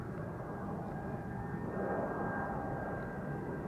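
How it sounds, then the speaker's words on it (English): An Airbus A340 at Amsterdam Schiphol Airport produces a low, continuous engine drone with a faint high whine, steady and fairly distant, heard alone. "Here's the A340."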